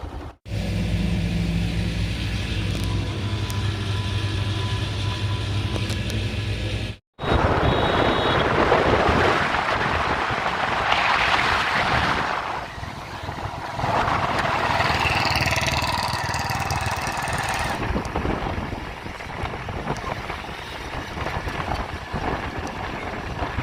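A motorcycle engine drones steadily along a road, with a brief cut partway through and shifting wind and road noise; no one speaks.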